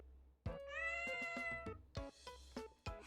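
Several cat meows in a visual novel game, a long drawn-out harmonic cry followed by shorter, brighter calls, loud and close with no talking.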